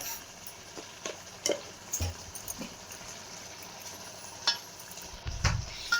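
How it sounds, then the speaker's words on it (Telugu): A spoon stirs chili powder through Andhra-style country chicken curry in a pan, giving soft scraping strokes and occasional metal clinks over a faint, steady sizzle, close up with no talk. "కారం వేసాక ఇప్పుడు బాగా కలుపుకోవాలి"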